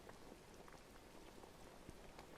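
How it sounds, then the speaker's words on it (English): Steady rainfall in Disney Dreamlight Valley pours down over a beach build, a dense continuous patter of drops with no voices. "And of course it starts raining right as I'm building my dreamy beach."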